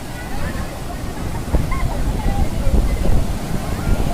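Ocean surf washes continuously at a crowded beach, a steady broad roar with wind buffeting the microphone, while people talk nearby over the waves.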